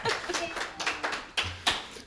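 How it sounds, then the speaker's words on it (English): Audience at a poetry reading applauding after a featured reader, scattered hand claps with a few loud individual claps, with faint talk in the room. "Round of applause."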